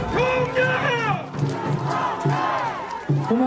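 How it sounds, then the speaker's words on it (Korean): A large crowd at a Korean presidential election rally in Siheung chants and shouts in unison, a loud, rhythmic wall of voices rising in repeated bursts. "여러분의 이 함성 잊지 않겠습니다."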